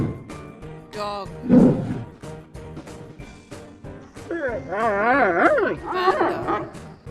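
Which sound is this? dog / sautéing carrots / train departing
dog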